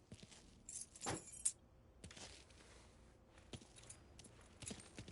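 Car keys jangling in the video game Mafia 3, a brief metallic rattle near the start followed by soft scattered footstep-like thuds, fairly quiet with no speech.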